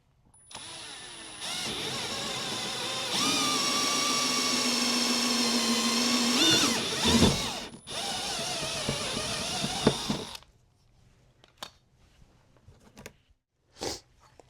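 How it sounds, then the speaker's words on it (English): Power drill boring a pilot hole through the plastic bumper and crash assembly of a 2012-2015 Camaro ZL1 for a tow hook: a sustained close whine rising in pitch for several seconds, then stopping, followed by quiet handling noises. "then just kind of start drilling a hole through the metal crash assembly or the bumper below it"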